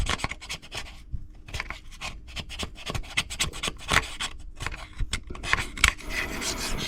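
Old gasket material is scraped off the engine surfaces of a Kenworth K100 cabover semi truck, heard as close, irregular rasping strokes with short gaps between them.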